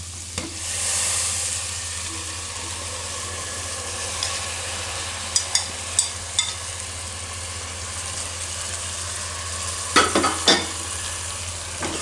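Bottle gourd and moong dal are stirred in a hot pan under a constant sizzle, with scattered sharp scrapes and clinks of the spoon in two brief clusters; no one speaks.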